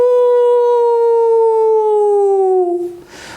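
A human voice imitates a wolf howling, one long sustained tonal howl that slowly falls in pitch and trails off, loud and close with no other sound.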